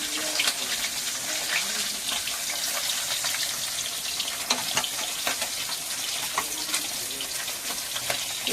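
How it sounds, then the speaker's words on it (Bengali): Fish rubbed with salt and turmeric fries in hot oil, giving a steady, dense crackling hiss with scattered sharp pops, close and fairly loud, with no talking. "মাছগুলো লবণ হলুদ দিয়ে ভেজে নিচ্ছি মাখিয়ে।"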